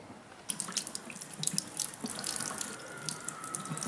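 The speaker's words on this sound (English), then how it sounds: "We clean the coins with water." Tap water runs and splashes as coins are rinsed in a sink during a coin-gilding process, with a steady hiss of flowing water broken by clinks and splashy bursts, close and fairly loud.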